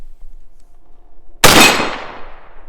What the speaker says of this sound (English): Let's empty another mag.